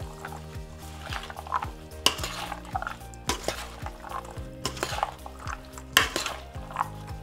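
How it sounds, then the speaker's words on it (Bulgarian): A lentil and vegetable salad being tossed and stirred in a bowl, with regular scraping strokes and a few sharper clinks of utensil on dish, close by and without talk. "Разбърквам много добре, за да се смесят всички съставки"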